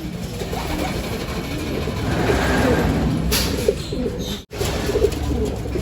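Breeder pigeons cooing in a colony loft, soft overlapping coos rolling on steadily at close range with a constant low background hum.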